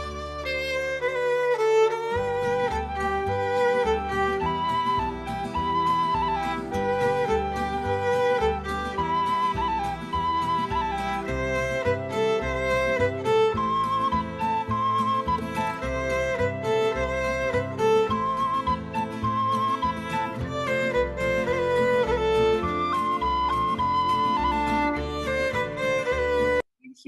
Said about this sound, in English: You will hear a violin, and then you will hear a flute echo exactly what the violin played.